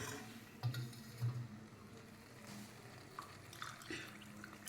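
Water poured into a pot of small-grain rice for kushka, a soft steady splash and trickle with a few louder gurgles near the start, faint and close, no talking.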